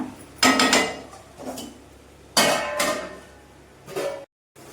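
Metal lid set onto a cooking pot of fish curry, with several sharp clanks and rattles in a few separate bursts, close and fairly loud, with no talk.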